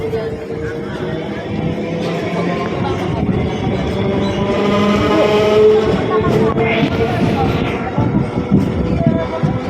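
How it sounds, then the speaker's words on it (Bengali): A train pulls away from a station, its low rumble and rattling wheels building steadily, with people talking nearby over the rolling noise. "ট্রেনটা অনেকক্ষণ পর ছাড়লো"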